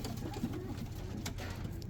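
Pigeons kept as pets cooing close by, a low soft repeated coo under steady background noise, with no talking.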